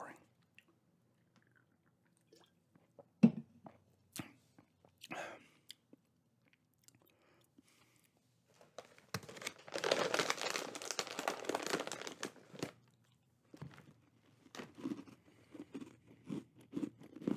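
Crunchy chewing of Dunkin Pumpkin Spice Grahams Goldfish crackers close to the mic, with packaging crinkles, sparse at first and then a dense stretch of rapid crunching in the middle before slowing to scattered bites.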